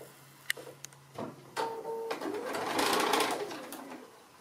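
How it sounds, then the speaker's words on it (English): A sewing machine runs in a short burst, stitching binding onto the inside of a curved fabric edge on a hanging pocket, preceded by a few light clicks and handling taps, close and fairly loud. "So I'm just sewing it to the inside at the moment."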